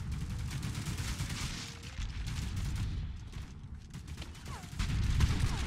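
Rapid M16 rifle fire in the video game Plastic Warfare, a dense, steady run of shots with other weapons crackling around it, continuing throughout and swelling louder near the end.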